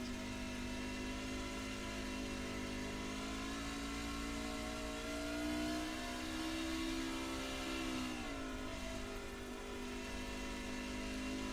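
A racing truck engine drones on the Bristol dirt track, a faint, steady whine that bends in pitch through a turn, with no talk.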